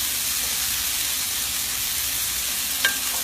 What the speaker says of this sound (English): I'm gonna go ahead and put the tomatoes in